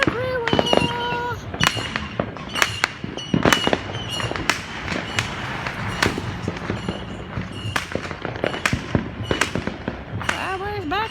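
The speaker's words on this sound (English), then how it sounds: "Fireworks everywhere." Fourth of July firecrackers and fireworks burst in rapid irregular volleys, loud close bangs mixed with farther pops and whistles, with a voice now and then.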